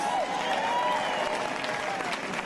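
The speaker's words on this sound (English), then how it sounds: "Give yourselves a big round of applause" Outdoor rally crowd at Los Angeles Trade-Technical College applauding steadily, a dense wash of clapping with a few raised voices and cheers mixed in, holding fairly even and moderately loud from start to finish.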